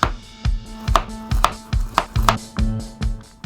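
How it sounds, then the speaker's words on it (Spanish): Peeled carrot halves cut into sticks about one centimetre thick, roughly seven crisp knife strikes against a cutting board at an even pace, close and clear with no talking. "Pelamos la zanahoria, la partimos por la mitad y la cortamos en bastones de aproximadamente 1 centímetro"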